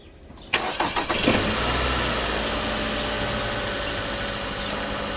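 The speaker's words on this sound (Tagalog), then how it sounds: "Baka pwedeng tapusin mo na yung pagre-revolusyon mo na sasakyan, ha?" A car engine starts with a few sharp cranking bursts, then settles into a loud, steady mid-pitched running drone close by that continues without a break to the end, with no voices.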